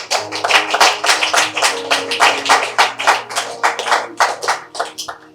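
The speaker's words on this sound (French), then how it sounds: "Applaudissez, c'est gratuit." An audience applauds steadily, with dense overlapping hand claps at an even intensity for several seconds and no speech.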